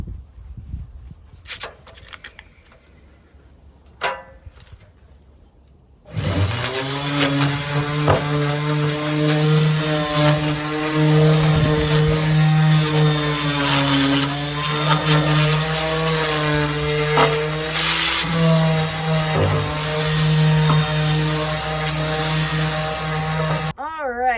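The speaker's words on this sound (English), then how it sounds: "Now that I've given everything another rough sanding on the back side" A power sander with fresh sandpaper working wood in an amateur construction project, a loud steady droning buzz that starts abruptly after a few quiet seconds and runs continuously with slight wavering.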